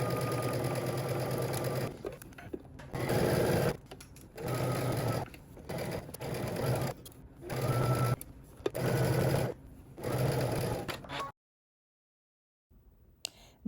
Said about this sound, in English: we can go ahead to the sewing machine and we're going to stitch all the way around